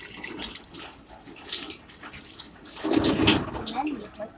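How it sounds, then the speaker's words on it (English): Tap water runs into a sink while someone washes their hands, a close, continuous splashing rush that swells louder partway through. A voice can be heard speaking now and then. "But first, you need to wash your hands."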